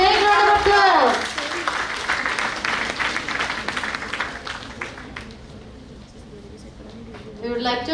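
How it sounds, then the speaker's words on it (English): An auditorium audience at a college conference applauds as a souvenir booklet is released, steady clapping that fades over several seconds while a voice speaks over it at the start and end. "So please give them a big round of applause."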